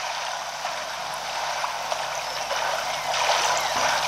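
Water in the video game Super Mario Odyssey, a continuous hissing, gurgling wash of splashing and movement, steady and fairly loud, swelling slightly near the end, with no speech.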